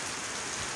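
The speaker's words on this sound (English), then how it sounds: "this is how rain rains." Steady rain pouring down as a dense, loud, even hiss of drops on surfaces, continuous and close with no voices.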